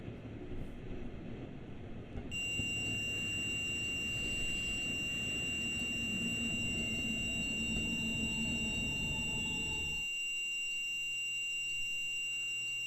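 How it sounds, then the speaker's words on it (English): Alarm ringing in the Train Sim World video game on a Ruhr Sieg Nord train, a steady high electronic tone over a running train's rumble, continuing after the rumble cuts out. "all of a sudden this alarm seems to be ringing"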